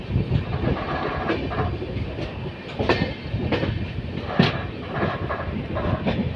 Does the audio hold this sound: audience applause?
no